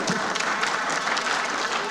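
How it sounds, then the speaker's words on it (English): Applause fills a parliament chamber during a House plenary session, a steady, dense clapping from many hands heard close and loud, with no speech over it. "Please, a resounding applause for them because they are coming from my former school."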